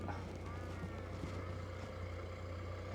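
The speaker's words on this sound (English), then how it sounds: "it sounds like there's a tractor coming with a boat on it" A tractor towing a boat approaches, a steady low engine drone with faint higher mechanical whine, moderately distant and constant under light wind.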